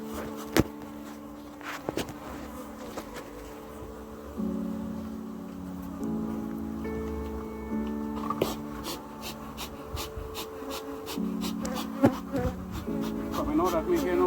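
Bees buzz continuously close by during nighttime hive work involving sugar syrup, a steady hum with scattered sharp ticks and knocks and no talking.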